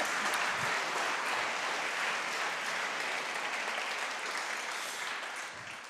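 An audience at a live product-launch broadcast claps steadily, a dense, moderately distant patter that gradually tapers off toward the end.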